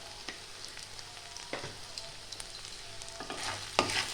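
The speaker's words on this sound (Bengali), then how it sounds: "দিয়ে ভালো করে একটু কষিয়ে নিতে হবে যতক্ষণ না আদা রসুনের গন্ধটা যায়।" Spices with ginger-garlic paste sautéing in a pan for a Bengali dim bhapa dish, a steady soft sizzle broken by a few sharp scraping stirs of a spoon, one louder scrape near the end.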